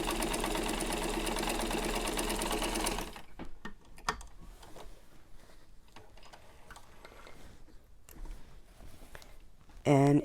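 A vintage Singer 15-90 sewing machine runs steadily while stitching black fabric, a loud continuous mechanical whir that stops abruptly, followed by quieter handling clicks and faint movement.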